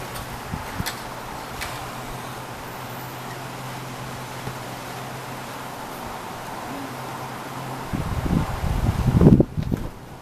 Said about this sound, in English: Sure is a windy day out here.